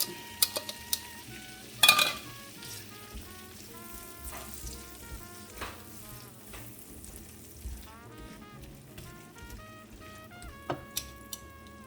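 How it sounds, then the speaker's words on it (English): Diced onions sauté quietly in a pan for shrimp spinach dip, a soft crackling sizzle broken by occasional stirring clicks and a louder scrape, with faint background music underneath. "We're gonna get these onions sauteed"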